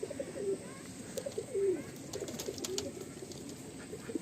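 Madrasi pigeons coo softly a couple of times against a faint, steady background hum.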